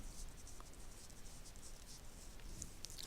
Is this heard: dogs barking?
no